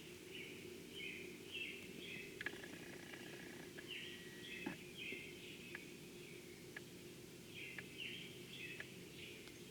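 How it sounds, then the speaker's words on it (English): Birds chirp and tweet at a distance over a steady low hum, with short bright calls repeating every second or two. "Hear the birds?"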